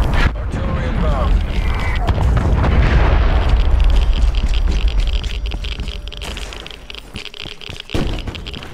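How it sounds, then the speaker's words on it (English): A Call of Duty Black Ops Cold War artillery strike rolls in as a long, loud rumbling barrage of booms and blasts that fades toward the end, with a game announcer voice heard over it. "Artillery inbound."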